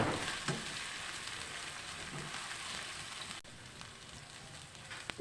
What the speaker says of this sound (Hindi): लहसुन अदरक को हम 2 मिनट के लिए इसको हम भून लेंगे